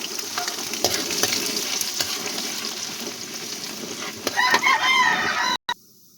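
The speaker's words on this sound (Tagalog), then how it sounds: "Ilalagay na rin po natin yung ating luya muna, unahin natin guys." Ginger sizzling as it is fried in a hot pan for shrimp paste (bagoong alamang), a steady loud crackle with stirring scrapes, a brief rooster crow in the background, and a sharp cut-off near the end.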